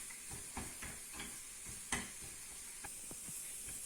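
Cheese omelette mixture frying in a pan, stirred with a series of soft scraping strokes over a faint steady sizzle, fairly quiet with no talk.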